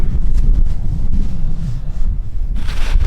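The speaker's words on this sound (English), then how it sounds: "It is so windy" Strong wind gusting across a microphone on an Austrian mountain top, a steady low roaring buffet that swells and rushes throughout, loud and close, with no one talking.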